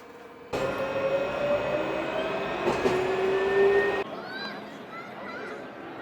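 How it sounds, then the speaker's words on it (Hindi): Tram heading to an English city centre, pulling in with a loud rising whine and squeal of wheels on rail, a sharp clatter midway, then dropping to a quieter hum as it stops. "ये ट्राम लेके सिटी सेंटर।"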